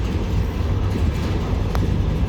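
A slow, underpowered CSX freight train climbing a ridge, its cars rumbling steadily past close by with a continuous low roar and no clear wheel clicks.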